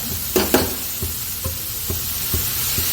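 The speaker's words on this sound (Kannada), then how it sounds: "ನೋಡಿ ಈ ಥರ ಸ್ವಲ್ಪ ಹುಣಸೆ ರಸ ಹಾಕೋತಾ ಇದ್ದೀನಿ" Tamarind juice hits a hot pan of frying ingredients with a broad steady sizzle, while a spoon scrapes and knocks against the pan in an irregular stirring rhythm, close and alone with no talk.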